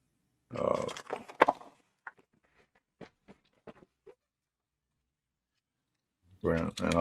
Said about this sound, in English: So that's how I sharpen my pencils. I use X-Acto knife.